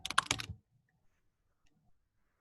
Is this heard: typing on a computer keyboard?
yes